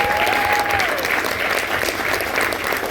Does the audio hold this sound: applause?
yes